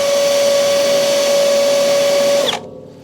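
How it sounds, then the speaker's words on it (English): A power drill whines at a steady high pitch while drilling out spot welds on the outer fender panel of a hot rod Willys, then winds down and stops near the end. "I just want to drill into that outer piece."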